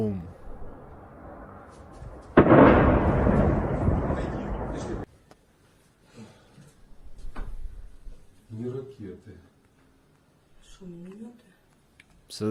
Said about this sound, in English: And you'll see this big explosion come up right now.